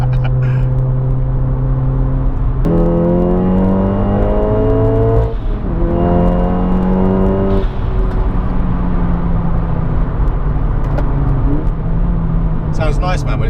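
Audi S1 Quattro making 400 bhp, heard from inside under full throttle as the engine revs climb in rising sweeps, shifts, and climbs again, loud and close.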